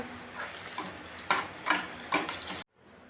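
A tadka for dal sizzles in hot oil in a series of sharp, crackling bursts over a low background hiss, cutting off abruptly near the end.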